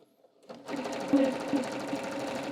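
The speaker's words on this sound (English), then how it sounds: "then I'll sew down" A sewing machine stitches down a pants side seam, starting after a brief pause and then running steadily and close at a fairly loud level, with no talking over it.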